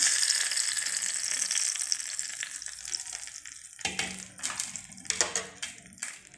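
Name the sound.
mustard seed tempering poured into peanut curry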